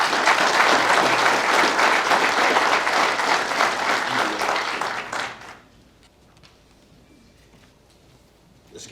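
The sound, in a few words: audience applause at an awards ceremony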